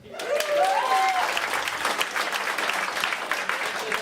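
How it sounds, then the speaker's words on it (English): Audience applause at a stand-up comedy show, a loud crowd clapping that swells quickly and holds steady for about four seconds, with scattered whoops and cheers riding over the claps. "Round of applause if you have children."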